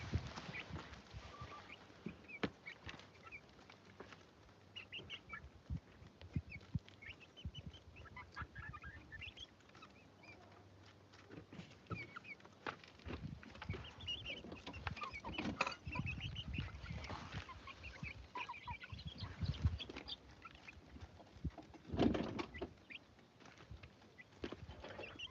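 Farmyard chickens on a homestead cluck faintly in the background, with occasional scuffles and rustling over a low, noisy ambience.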